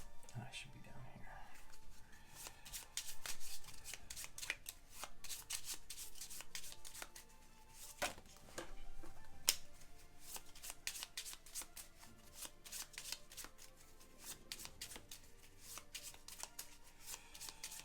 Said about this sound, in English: He needs to shuffle up his deck here.